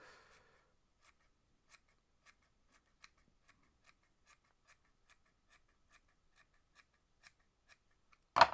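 Small scissors trim material tied on a fly-tying hook for a Double Buford fly, making a steady series of faint, crisp snips at close range after a brief soft rustle, ending with a louder handling noise.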